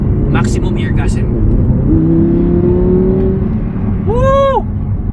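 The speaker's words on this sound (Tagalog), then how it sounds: "Dahil pinagkatiwalaan tayo para ma-i-vlog natin ang isang malupit sport exhaust." An Audi R8 V10 Plus supercar with a sport exhaust revs in Green Hills, Philippines, its loud, close exhaust note swelling and holding, then a sharp brief rising whine, with excited voices early on.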